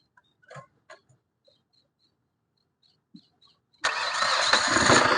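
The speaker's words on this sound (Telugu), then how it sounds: "సింగిల్ సెల్ఫ్ లో బండి స్టార్ట్ అవుతుంది సార్" A few quiet clicks and taps, then the diesel engine of a 2018 Hyundai Grand i10 cranks and catches on a single start, settling into a loud, steady rumbling idle nearby.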